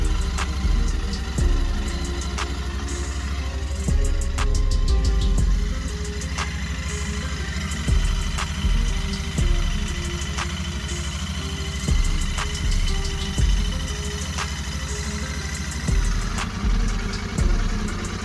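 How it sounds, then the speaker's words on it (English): A Royal Enfield Interceptor 650 engine idles nearby after a valve check, holding a steady throbbing rhythm with regular pulsing beats, with no talking. "Start the engine and let it run for 10 minutes"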